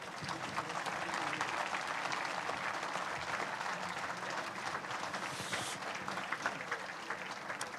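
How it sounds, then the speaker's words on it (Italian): An audience claps steadily and fills the hall with dense, sustained applause for an alpine choir at a choir festival in Castelfranco. The sound stays loud and even throughout, with no speech over it. "e si merita doppiamente un applauso"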